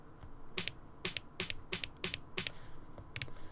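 Dry snare hits from the Lunch 77 drum kit with all effects disabled, a short crisp crack repeating roughly every third of a second in a loose pattern of about eight strikes, close and alone.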